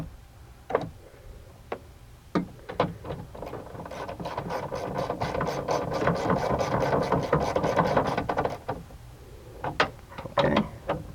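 A rear power window motor on a 2004 Nissan Titan whirs steadily for several seconds as the regulator raises the glass, framed by clicks and clunks of the switch and door hardware before and after, close and mechanical.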